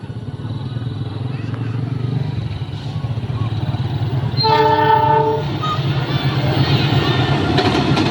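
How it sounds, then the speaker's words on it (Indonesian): A passenger train rumbles past close by, its horn blaring one sustained blast midway, with the steady roar of wheels continuing beneath and after it. "Oke, dari arah sana ada kereta api."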